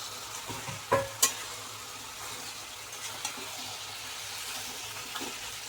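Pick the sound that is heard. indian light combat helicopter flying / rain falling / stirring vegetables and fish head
stirring vegetables and fish head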